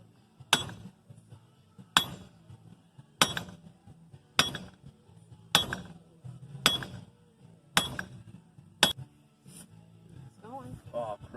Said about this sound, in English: I'm gonna use this hammer right here and hold it right here, and then we'll hit it